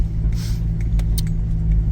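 A Chevy Trailblazer SUV engine drives around at a steady pace, giving a continuous low rumble close by with a few faint higher rattles and no talk.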